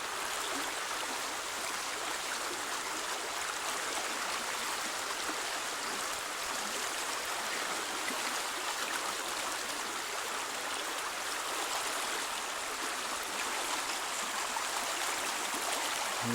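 Steady river flow rushing past a shore lined with trees, a continuous even wash of water, fairly soft and unbroken, with no voices.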